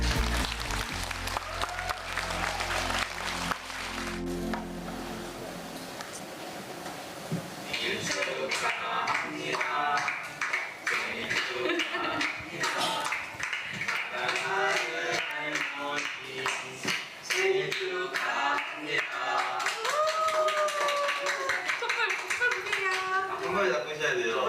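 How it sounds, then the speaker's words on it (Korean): An audience claps at an indoor welfare-themed presentation event in Korea, a long run of loud, close hand clapping with voices and children's chatter mixed in underneath. "큰 박수 부탁드립니다."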